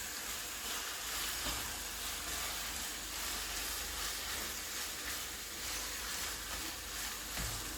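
Chicken meat sizzles and hisses steadily in a hot pan for several seconds, a continuous dense frying noise with occasional faint scrapes from stirring.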